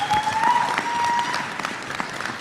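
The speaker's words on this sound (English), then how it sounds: "let's give him a round of applause" Audience applause at the Bitcoin Rodeo 2024 conference, a steady wash of many hands clapping that stays fairly loud, then eases slightly, with a faint tone running underneath.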